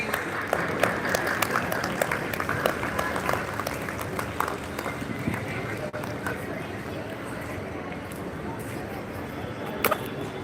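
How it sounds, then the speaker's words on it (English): Children at an English school clap their hands, a scattered, uneven patter of small claps continuing steadily over background noise with some voices mixed in. "Clap your hands, please."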